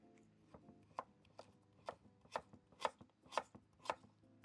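A knife roughly chops radish on a cutting board in a run of about nine crisp thuds that grow louder and sharper, evenly spaced and close by, with no voices.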